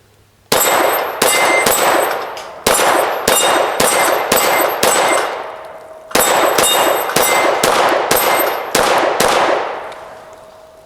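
Pistol shots from an FN 509 CC Edge ring off a six-paddle steel dueling tree, a string of sharp cracks each followed by a bright metallic clang and ringing decay, fired in two quick volleys with a brief pause between, no talk.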